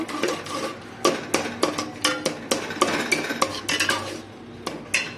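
Boiled lentils and potato stirred in a metal pot for spinach dal, a spoon scraping and knocking against the sides in a steady run of close, clinking strokes with no talking.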